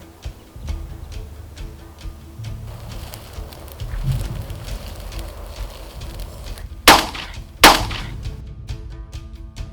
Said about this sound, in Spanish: La escasa visibilidad ha hecho que los cazadores fallen los disparos y el jabalí escapa.